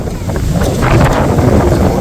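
Strong wind gusts roar across a village field with trees before a rainstorm in Bangladesh, a loud, steady rushing with buffeting against the microphone throughout.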